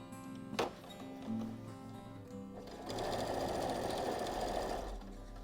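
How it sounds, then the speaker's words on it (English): A sewing machine stitches through denim jeans fabric, a brief run early on and then a steady, louder stretch of rapid mechanical whirring toward the end, heard close up and alone. "you're going to sew down one side, along the bottom and back up the other side"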